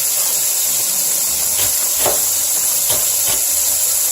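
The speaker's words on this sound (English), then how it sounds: "But those are the onions, and I'm going to let those cook down." Onions cooking down in a pan for succotash give off a steady, broad sizzling hiss that holds at an even level throughout, with a few faint clinks and taps rising briefly above it.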